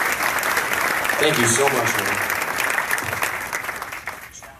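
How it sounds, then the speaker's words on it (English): Audience applause for an honoree at the Drag Illustrated 30 Under 30 unveiling, held live at PRI amid a large drag racing crowd: sustained clapping fills the room, with someone speaking over it briefly as it tapers off. "give him a round of applause"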